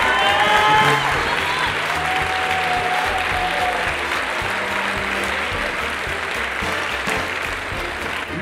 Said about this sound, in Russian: Поддержите аплодисменты